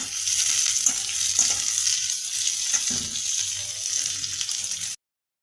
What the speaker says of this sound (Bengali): গরম মশলাটা ফোড়ন হয়ে গেলে এতে পেঁয়াজটা ভেজে নেব।